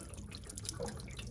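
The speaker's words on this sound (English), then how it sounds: "All the water is going to flow out." Water draining out of an RV's water lines during winterizing, a steady close trickle and splash of flowing liquid, faint and continuous with no talking.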